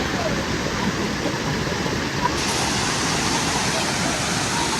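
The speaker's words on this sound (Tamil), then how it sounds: "இங்கே பார்த்தீங்கன்னா நல்லா ஃபாஸ்ட்டாக தண்ணி வந்துகிட்டே இருக்கிறது." Water rushes fast and hard through Kodiveri dam, a loud, steady, broadband roar that continues without a break and sounds close.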